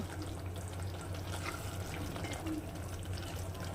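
Mushroom curry with spices being stirred in a pan, a steady wet sizzle and scraping swish running continuously at close range, fairly quiet, with no voices.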